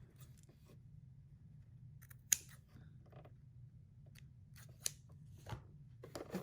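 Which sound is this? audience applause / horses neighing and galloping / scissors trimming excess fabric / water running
scissors trimming excess fabric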